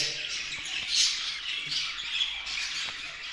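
A group of budgerigars squawks and chirps continuously and close by, making a dense, bright chatter with a few louder calls standing out.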